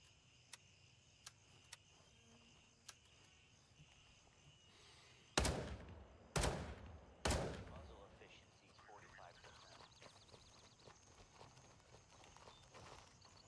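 A suppressed rifle fired in the shooter game Gray Zone Warfare: three sharp, moderately loud shots spaced about a second apart, preceded by faint clicks of handling, with quiet ambience around them.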